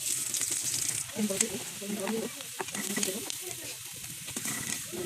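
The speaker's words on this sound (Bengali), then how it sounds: "কড়াই ভেজে আমি পেঁয়াজ মরিচ আদা দিব" Onion, chili and ginger fry in a hot wok with a steady soft sizzle and occasional stirring scrapes, heard close and fairly quiet.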